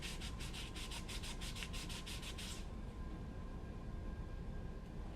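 Rhythmic rubbing strokes wipe clean the gasket seating surface of a 128A CoPilot print head, about a dozen quick close swipes followed by a softer steady hiss, with no talking.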